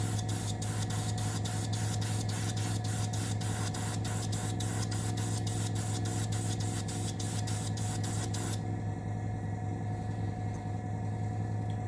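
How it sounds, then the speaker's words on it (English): An aerosol spray can coats the top pieces of a model Russian Navy Project 955 Dolgoruky submarine, a steady close hiss running continuously for about eight seconds and then cutting off, leaving a low background hum. "And this paint goes on beautiful the next, after the first coat."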